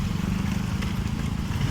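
Honda Soul GT 125 motorcycle engine with a faulty, sputtering response, running steadily in a low throaty drone close by with no clear rise in revs, no voices present.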